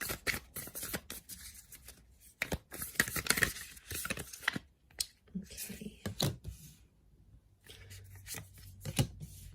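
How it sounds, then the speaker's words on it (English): Tarot cards shuffled by hand close up, giving bursts of crisp papery rustling and riffling in irregular clusters with brief pauses between them, and no talk over it. "let's give the cards a shuffle"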